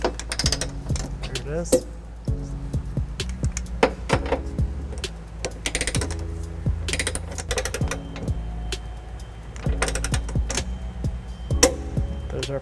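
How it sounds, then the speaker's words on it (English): Socket wrench working an 18mm socket to tighten nuts on a trailer hitch under a 2012 Ford Escape, giving repeated close ratcheting clicks and metallic clanks, with someone speaking briefly. "We're using a 18mm socket to tighten down all these nuts."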